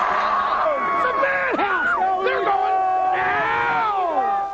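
A packed crowd of some 65,000 Philadelphia Eagles fans at Veterans Stadium screaming and cheering at a football game, a loud, sustained roar of overlapping voices with rising and falling whoops.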